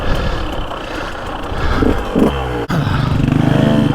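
KTM 150 SX two-stroke dirt bike ridden on a dry, dusty trail, its engine loud and close with rising revs and a brief cut near the end before pulling hard again, plus some clatter.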